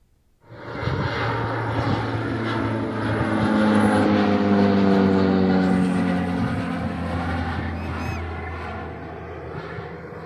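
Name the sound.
jet plane circling overhead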